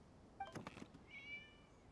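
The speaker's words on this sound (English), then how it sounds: "It was just a cat." A cat in the video game Genshin Impact gives a couple of short, faint meows, one high and quick, then a longer drawn-out cry over quiet background ambience.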